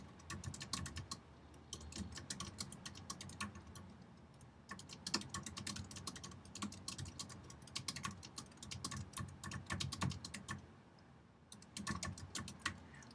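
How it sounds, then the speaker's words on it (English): Steady bursts of computer keyboard typing, quick clustered key clicks running for several seconds with brief pauses between phrases, close and moderately quiet. "See if I can type here."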